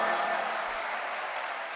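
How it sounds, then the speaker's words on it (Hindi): Audience applause at a university function in India, a steady, moderately loud wash of many hands clapping that carries evenly through the brief stretch. "तालियों की गड़गड़ाहट से लग रहा है"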